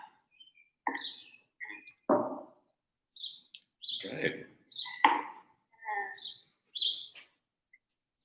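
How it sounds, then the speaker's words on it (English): Short bird chirps sound close by, scattered between bursts of conversation, with brief quiet gaps between the calls. "there's birds that are literally right above you. I'm sure you can hear them"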